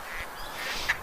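Duck calls from the Duck Dynasty video game on PS4, a short, faint quack near the end over soft game background noise.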